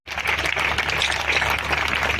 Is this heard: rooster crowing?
no